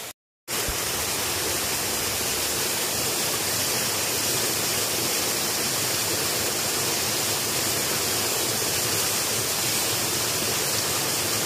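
Water rushes in a dense, steady hiss as it is collected, loud and close, starting abruptly after a moment of silence and continuing without pause.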